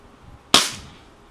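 A single sharp crack from a Dan Wesson 715 6-inch airsoft revolver firing a BB, loud and close, with a short fading tail, after a quiet lead-in.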